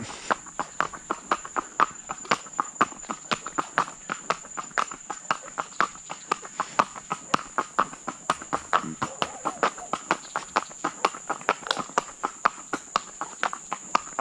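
A mare's hooves clip-clop at a steady walking pace, sharp evenly spaced hoofbeats close by over a high insect-like hum, continuing throughout the stretch.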